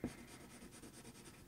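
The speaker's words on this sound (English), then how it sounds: "that shading motion with the pencil" Pencil shading on paper, a soft, faint, rhythmic scratching of graphite strokes in quick back-and-forth passes, close and alone.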